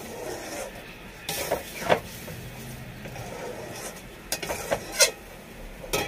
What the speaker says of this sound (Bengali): মশলাটা কষানো হয়ে যাচ্ছে, কষাচ্ছি, একটু কষিয়ে নিই।